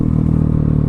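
A KTM 690 SMC R single-cylinder motorcycle engine runs loud and close, a deep pulsing throb held steady through the short burst.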